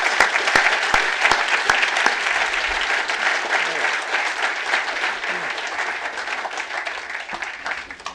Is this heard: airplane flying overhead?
no